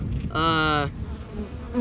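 Honeybees tending a queen give off a brief, loud, steady buzzing burst close by, which fades into quieter hum and background noise.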